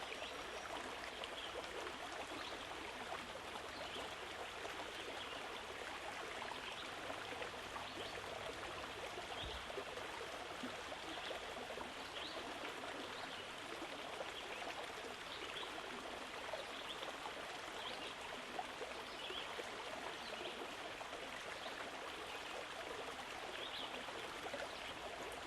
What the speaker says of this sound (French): Peut-être je peux entendre les murmures de l'eau, le chatoiement de l'eau.